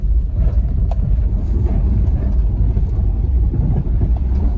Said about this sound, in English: I'm gonna go on a test drive and try to bed in these rings